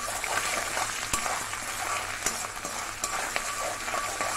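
Grated coconut and dried chillies frying in coconut oil, stirred continuously over a low flame: a soft, steady sizzle with scraping stirs and occasional sharp clinks of a spoon against the pan, no talk.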